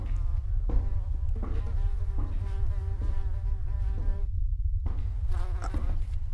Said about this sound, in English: I hear the fly